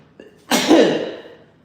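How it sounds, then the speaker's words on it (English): A single loud, close sneeze from a man, with a short breathy intake before it and a burst that trails off over about a second. "now I gotta sneeze"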